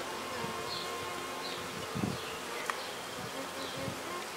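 Honeybees buzz steadily at close range around nucleus hives, a soft continuous drone with individual bees passing near the microphone now and then.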